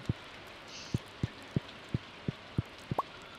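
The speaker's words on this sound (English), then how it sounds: "If you hear that sound, that means it's still raining." Rain in the Stardew Valley video game falls as soft drips, with evenly spaced thuds over a faint hiss. The sound is quiet and continuous.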